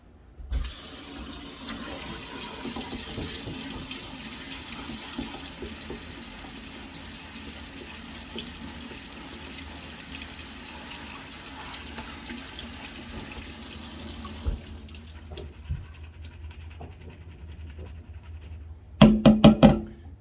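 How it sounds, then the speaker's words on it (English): Tap water runs steadily into a pasta strainer as seeds are rinsed in a sink, a moderate continuous splashing that stops near the end, followed by a few sharp knocks of the strainer. "Dump these ones into the pasta strainer and rinse them off."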